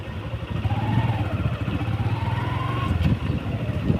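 A Suzuki Hayate EP 110cc commuter motorcycle being ridden, its low, steady engine drone humming continuously with a faint rising whine, plus a brief clatter near the end, with no talk.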